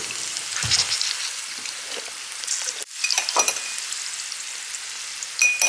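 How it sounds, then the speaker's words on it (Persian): Onions frying in a pan, a steady rain-like crackling sizzle with a couple of brief louder bumps and utensil knocks along the way. "منتظریم تا پیازا سرخ بشه"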